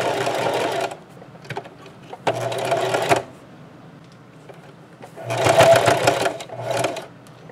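Sewing machine stitching a tote bag handle made from placemats, running in three separate bursts of steady whirring with brief pauses between them, close and fairly loud.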